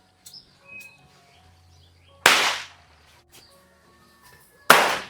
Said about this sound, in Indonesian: sudah main petasan aja nih